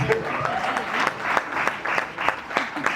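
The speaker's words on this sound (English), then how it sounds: "let's have a huge round of applause for all the parents" A crowd at a film trailer launch Q&A applauds the parents, a steady patter of many hands clapping with a few sharper claps standing out, and voices mixed in underneath.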